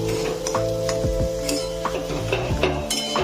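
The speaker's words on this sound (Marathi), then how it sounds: "आता ही भाजी आपल्याला चांगली परतून घ्यायची आहे।" A potato vegetable dish is stir-fried in a pan, with a loud, continuous sizzle and the rapid scraping and clatter of a spatula stirring close by.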